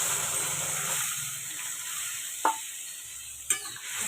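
Spice-bowl rinse water poured into paneer masala frying with Kashmiri chili powder gives a steady, moderately loud sizzling hiss, broken by two brief metallic clinks of a utensil near the end.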